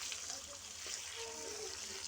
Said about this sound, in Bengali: আর জল দেব মশলার বাটি ধুয়ে যে রেখেছিলাম কিছু জল, সেই জলটাও এর সঙ্গে দিয়ে দেব।